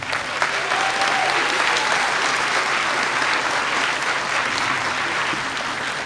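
Audience applause after a school spring concert chorus song, a steady, dense, loud wash of clapping from a full hall that carries on evenly throughout.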